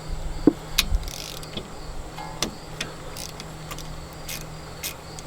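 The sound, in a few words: socket wrench removing brake bolt on Chevrolet Cruze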